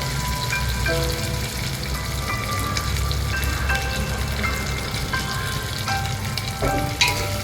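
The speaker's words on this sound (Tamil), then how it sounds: "இந்த வெங்காயம் நல்லா வதங்க விட்டுறலாம்." Small onions sizzle steadily in a hot pan, a dense crackling hiss with occasional clinks of a utensil stirring, no voices.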